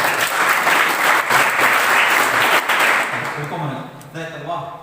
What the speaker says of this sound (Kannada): ಒಂದು ಚಪ್ಪಾಳೆ ಹೊಡಿಬೋದಾ ನೀವು?